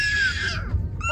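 A child screams loudly, a high sustained shriek that breaks off, then a second shrill cry starts.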